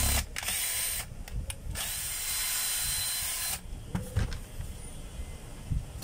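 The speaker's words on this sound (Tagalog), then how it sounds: "Tapos kakabit na natin yung screw sa harap." Power tool driving a screw into the front of an assembly, a loud, high whirring drive in short bursts with brief pauses between them, then quieter mechanical clicks and handling sounds.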